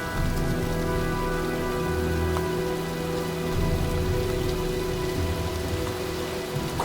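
Steady heavy rain pours down in a stormy scene from the video game Heavy Rain, a dense unbroken hiss with a low rumbling undertone, loud and constant throughout.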